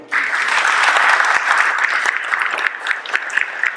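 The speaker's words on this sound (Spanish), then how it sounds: "para que pida un aplauso" An audience bursts into sustained applause, a dense wash of clapping hands that holds strong for several seconds before thinning slightly toward the end.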